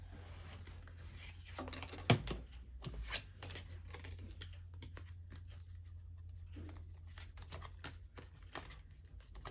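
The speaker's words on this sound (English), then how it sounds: "Sorry, I just spilled cards all over, so I'm just gonna straighten them out really quickly." Tarot cards being gathered and straightened after a spill, heard as quiet, irregular card taps, slides and shuffling rustles over a low steady hum, with one sharper knock partway through.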